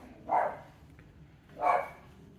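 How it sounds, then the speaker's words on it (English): Two faint barks from a neighbourhood dog, spaced about a second apart, heard far off outdoors over a quiet background. "house alarms and barking dogs"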